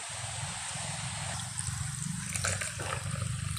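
Water poured over flattened rice (aval) to soak it in a kitchen, a steady gurgling, trickling stream running throughout at close range, with no talking.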